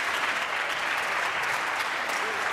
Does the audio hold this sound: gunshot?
no